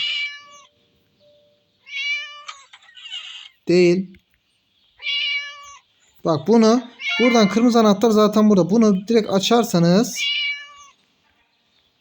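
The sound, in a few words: cat meowing in the video game Scary Teacher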